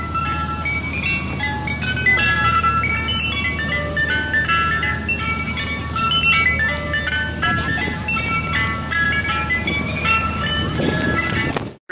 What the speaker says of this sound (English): There's an ice cream truck here.